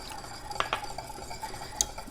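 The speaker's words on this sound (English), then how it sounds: "I'm going to add a little bit of butter and whisk that in." Whisk clinking and swirling in a pan as butter is whisked into a warm sauce with the heat off; soft, brief stirring taps and a faint clink, quiet and close.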